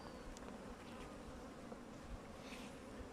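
Honeybees crowd a beehive during beekeeping as the colony prepares for winter after a good honey flow, making a dense, steady, close buzzing that continues without pause and with no other sounds.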